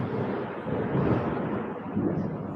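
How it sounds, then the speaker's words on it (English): A thunderstorm rumbles outside, a continuous low roar of thunder and wind that swells and fades without any distinct sharp crack. "Can you hear the storm?"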